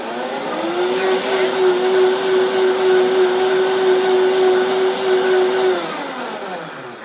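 A kitchen blender mixes a homemade balsamic vinaigrette with a loud, steady motor whir that holds evenly for about five seconds, then spins down and fades.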